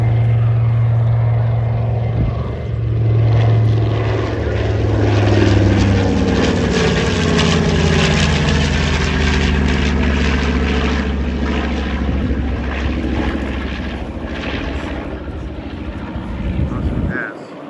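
A World War II-era B-29 propeller bomber making a pass at an airshow, a loud droning engine roar with a falling pitch as it sweeps by and fades, an announcer's voice running over it.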